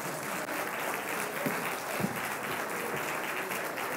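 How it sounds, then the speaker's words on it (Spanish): Audience applause at a congress session, sustained and evenly textured clapping from a sizeable crowd filling the whole stretch, with a few faint voice-like sounds buried beneath. "Un aplauso para el señor que se ganó 100 euros."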